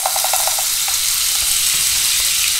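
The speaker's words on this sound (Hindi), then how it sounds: "बटर को हम मेल्ट करेंगे।" A tablespoon of butter melting in a hot pan, crackling and sizzling steadily up close, with a few quick utensil taps at the start and no one speaking.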